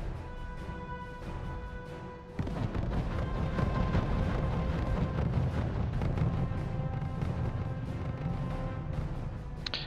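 Artillery fire in the real-time strategy game R.U.S.E. during a 2v2 multiplayer match on the Cauldron map, a dense rumbling barrage of booms that swells after the first couple of seconds and continues steadily, with a commentator's voice faintly underneath.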